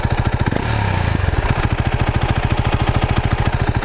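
A Husqvarna Vitpilen 701 single-cylinder motorcycle with an Akrapovic exhaust idles close by with a deep, rapid, even exhaust pulse, briefly rising in pitch near the start before settling back.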